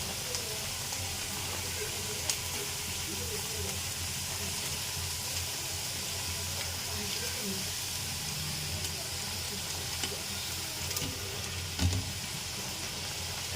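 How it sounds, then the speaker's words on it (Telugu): Sweet jaggery dumplings (bellam kajjikayalu) frying in hot oil, giving a steady, close sizzling hiss that runs the whole time with occasional small pops. "ఆ రకంగా చక్కగా వేపుకోవాలి."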